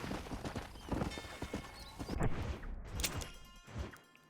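Horse hooves clip-clop in Red Dead Redemption, a fairly close, uneven series of knocking steps mixed with rustling game ambience, loudest in the middle before trailing off.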